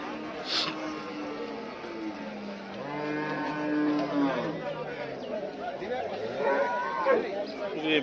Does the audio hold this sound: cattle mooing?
yes